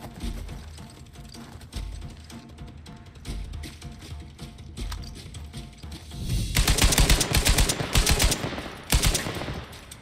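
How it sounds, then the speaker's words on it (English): Gunfire in Uncharted 4: A Thief's End during a sniper fight, with sparse single shots and mechanical clicks early on, then a dense, loud burst of rapid firing from about six seconds onward. "Yep, I sniped the sniper."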